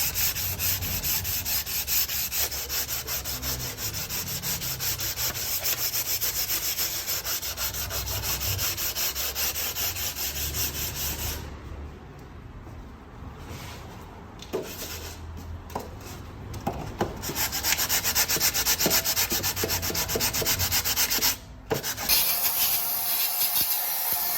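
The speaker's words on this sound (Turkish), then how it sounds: "Hafiften zımpara yardımıyla yüzeyin temizliğini yapıyoruz." Continuous rhythmic rubbing of sandpaper lightly cleaning an Opel Astra J cylinder head surface, steady and close, with a brief lull partway through before the scraping strokes resume.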